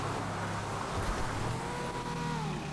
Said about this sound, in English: I can just hear the engine sounds of sports cars all around me.